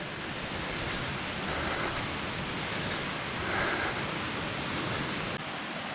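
Steady broadband rush of a jungle river and small waterfall where two little rivers meet in the Lentang Forest Reserve, continuous close water noise with no voices.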